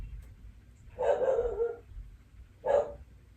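Jackson, a big dog, gives two deep barks, one long and one short, close and loud against a quiet room.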